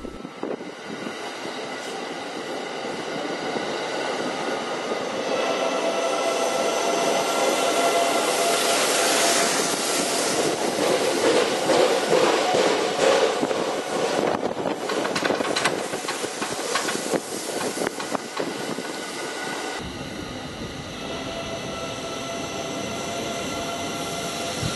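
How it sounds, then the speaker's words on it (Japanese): The Hakutaka limited express creeps slowly past a station ticket gate on the Hokuhoku Line in late autumn, making a loud, steady roar and hiss. Repeated knocks from a flat wheel run through the middle of its pass. "このフラット音を聞けばいかにゆっくり走ってるかっていうことですよね"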